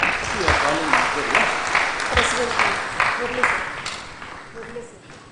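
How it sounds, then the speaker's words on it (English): Seated guests at a bank officers' association golden jubilee gathering clap in a strong round of applause that gradually thins and fades, while a voice speaks over it. "A very big applause to all of them."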